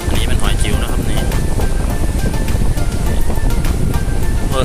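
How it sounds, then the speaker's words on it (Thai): Sea waves wash loudly and continuously onto a shallow beach at Rayong while people gather small clams, with steady surf and wind filling the whole stretch. "คลื่นเยอะ"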